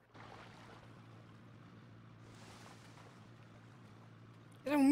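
Boat engine droning steadily across a lake in GTA, a low continuous hum with brief surges of spray-like noise, moderately faint, before a sudden louder burst at the end.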